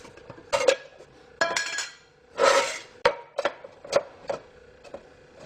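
Metal gutter guard mesh being fitted into the lid lip of a simple homemade woodgas stove, giving a series of sharp metallic clinks and taps in irregular bursts, close and fairly loud, with no talking.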